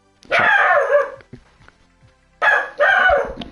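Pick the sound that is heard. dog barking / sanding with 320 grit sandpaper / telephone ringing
dog barking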